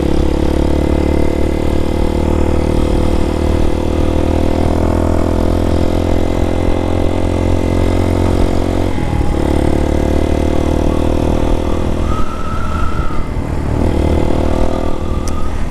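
Several Harley-Davidson motorcycles idle together outdoors, a loud, steady low rumble that holds throughout with slight surges and a brief wavering tone near the end.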